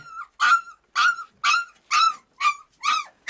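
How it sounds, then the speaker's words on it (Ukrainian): Hunting dogs giving a run of seven short, evenly spaced yelping barks, close and fairly loud, each call rising then dropping off with brief silences between them. "Ай, ви мисливські песики такі."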